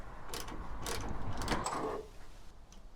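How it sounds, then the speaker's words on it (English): Close mechanical ratcheting and metal clatter come from truck bed bolts, a Torx T55 and T40 with one holding a D-ring, being backed out on a Toyota Tacoma, running steadily for about two seconds before fading to quiet handling. "we're going to remove the 2 bolts, one with the D-ring and this big silver one here"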